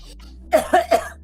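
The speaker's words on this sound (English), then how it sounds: "Are you coughing at the moment?" Three sharp coughs in quick succession, close and fairly loud, after a short quiet stretch.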